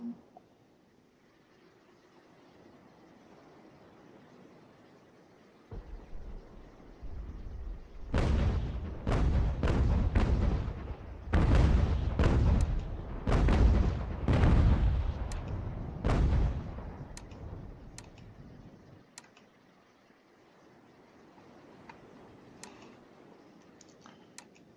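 A rapid volley of booming cannon shots in the video game Ultimate General: American Revolution, battle of Newport, fires in a dense cluster, several blasts overlapping, then fades back to a quiet background hum.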